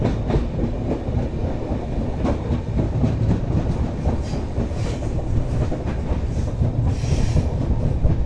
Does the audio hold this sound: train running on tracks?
yes